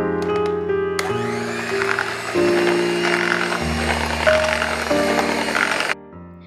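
Hand blender beating eggs, sugar, vanilla essence and milk for caramel pudding, a whirring motor that shifts pitch in steps as the speed changes, close and loud, then cutting off near the end.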